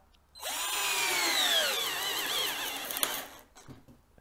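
A 12V cordless drill with a 13/16 spade bit spins up and grinds steadily through wood for a few seconds, the motor pitch sagging under load before it stops, close and loud.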